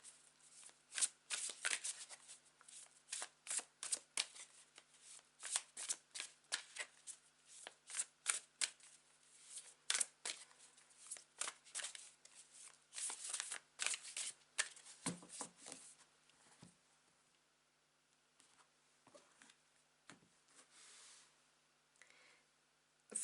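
Tarot cards riffle and shuffle in quick, crisp bursts of flutter and slap, repeated many times with short pauses between, close and fairly quiet with no talk.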